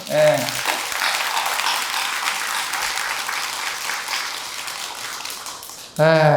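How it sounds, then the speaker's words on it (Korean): Broad, sustained applause from Buddhist worshippers seated in a temple hall and its courtyard, a dense wash of clapping lasting several seconds, framed by a monk's voice speaking before and after. "이 박수 소리가 큰 거를 보니까"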